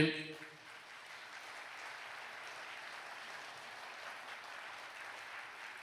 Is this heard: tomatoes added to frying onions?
no